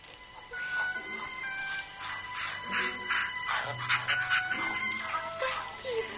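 Dogs bark and whimper in a fairy-tale scene, a few short excited yelps rising and falling over a busy background of other sounds and faint voices.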